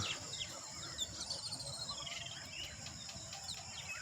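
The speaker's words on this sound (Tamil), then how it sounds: "குருவிய சவுண்டு கேட்குதுங்களா?" Sparrows chirping at their roost in the evening, thin scattered tweets over a dense, steady outdoor bed of insect and ambient noise, moderately faint with no voices.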